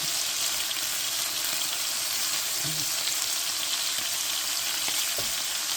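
Sausages fry in a pan with a steady, dense hiss of sizzling oil. A couple of faint clinks and stirring touches sound near the end, with no one talking.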